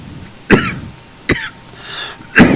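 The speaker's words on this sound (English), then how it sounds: "Oh, this cough is persistent." A persistent cough bursts out three times, close and loud, spaced irregularly with a quieter throat-clearing rasp in between, during a flight-sim session in an X-Plane 12 Zibo-Mod 737 cockpit.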